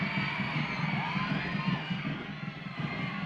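Crowd cheering at a women's soccer match at Stade Boreal, a dense, steady roar of many voices with shouts rising above it, close and loud throughout.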